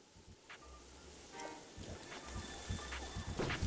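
Rainfall in The Legend of Zelda: Breath of the Wild, a steady soft hiss of rain with low rumbling beneath, fairly quiet and alone, with faint game tones over it.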